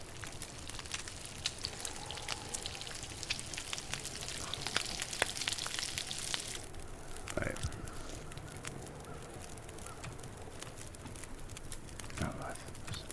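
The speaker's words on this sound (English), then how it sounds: "you can hear that sizzling" Food sizzles and crackles in a pan over a fire in The Long Dark survival game, a continuous hissing fry with small pops, heard at moderate distance with occasional voices talking.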